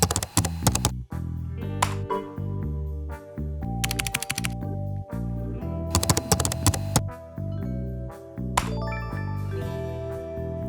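Rapid bursts of keyboard typing as a password is entered, clustered in a few short runs of clicks over a steady musical bed with chiming tones.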